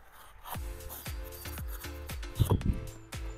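An Opinel No 8 folding knife slices across corrugated cardboard against the grain over a fire pit, giving a steady series of short scraping, rasping cuts about every half second, close and moderately loud, with a denser crackly burst partway through.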